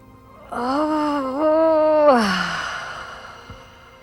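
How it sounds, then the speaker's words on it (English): A single long, drawn-out yawn with a rising, wavering voiced tone that fades into a breathy exhale, close and clear during a beginner yoga routine. "Stretch. Yawn."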